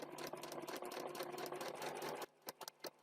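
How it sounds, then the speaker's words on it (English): A sewing machine stitches along a line, a fast even mechanical whirring and clatter running for about two seconds, then stopping, followed by a few short separate needle taps. "I'm then going to stitch along the line"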